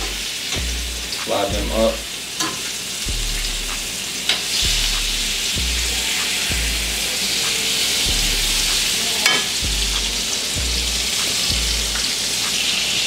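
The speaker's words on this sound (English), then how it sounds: "We're gonna allow that butter to melt a little bit." Salmon sizzles in melting butter in a hot skillet, a steady bright crackle throughout with repeated low knocks and clinks of a spoon basting, while a person speaks briefly over it.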